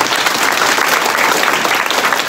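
An audience at a school event welcoming sports champions applauds loudly and steadily in a dense, continuous burst of clapping.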